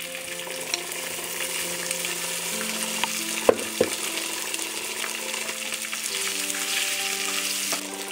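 White oil frying in a hot wok, a steady close sizzle with a few sharp clicks and faint tonal hum in the background, no talking.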